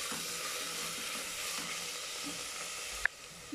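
Onions and tomatoes fry in a pan with salt in a potato and cauliflower curry, giving a steady soft sizzle throughout with a brief sharp clink near the end.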